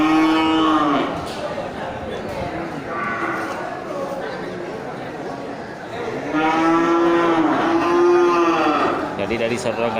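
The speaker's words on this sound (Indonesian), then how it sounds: "sapi Simmental Black." Simmental Black cattle at a livestock market give several loud, drawn-out moos, with one early call and two longer ones later, over background crowd chatter.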